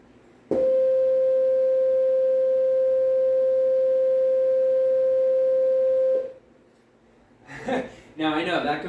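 A steady C5 harmonic reference tone rings through a PA system during snare and tom tuning on a Mapex Saturn drum kit, holding loud and unbroken for about six seconds before cutting off, followed by brief laughter and chatter.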